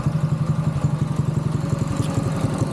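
A Phatmoto All-Terrain motorbike fitted with a 224 Predator engine runs at a steady idle, a close, loud, rapid even thump-and-clatter that continues throughout without talk.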